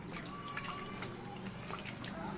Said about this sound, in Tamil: இந்த மாதிரி நல்லா பிசைஞ்சு கழுவிக்கணும்.